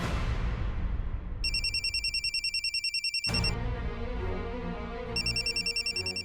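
An electronic phone ringtone repeats in pulsing bursts, loud and close, with a brief pause midway before it rings again.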